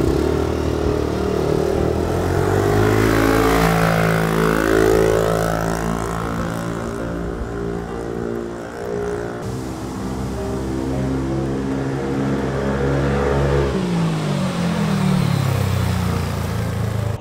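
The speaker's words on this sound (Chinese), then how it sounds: "我个人是觉得这支管又跟昨天的不太一样，就是它的声音更低沉一点。" Motorcycle fitted with a Yoshimura full exhaust system revving, a deep, loud engine note rising and falling in pitch through repeated throttle blips, with no talk.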